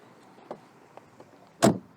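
Faint clicks and small latch taps come first, then one Audi 100 C car door shuts with a single solid, loud thud close by, with no talk.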